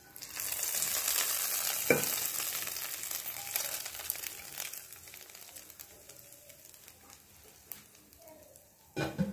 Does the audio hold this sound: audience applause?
no